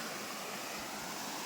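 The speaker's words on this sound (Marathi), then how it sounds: "सुंदर असा ओढा" A pretty hillside stream runs steadily in the rainy season, heard as a constant, even broadband wash of flowing water that fills the whole clip with no voices.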